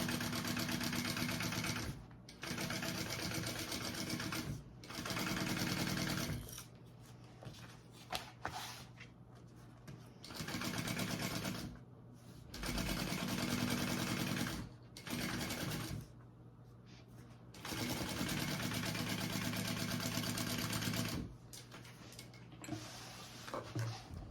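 A sewing machine top stitches along the band of a tote bag, running in repeated close whirring bursts separated by short pauses throughout.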